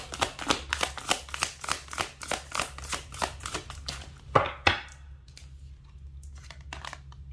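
Tarot cards being shuffled and drawn: a rapid run of crisp card riffles and flicks under a steady low hum, ending with a few sharper slaps before the sound thins to quiet rustling.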